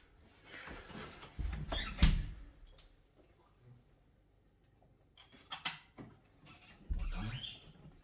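A toilet door creaks open inside a dark, rain-soaked horror video game, heard as a couple of faint wooden knocks and a creak among quiet game ambience, with scuffing movement sounds around it.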